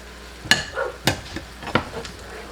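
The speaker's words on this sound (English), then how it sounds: "Stir that around." A utensil stirs shrimp scampi with asparagus in a pan, giving a few scattered scrapes and clinks against the pan over a low sizzle, close by and with no voices.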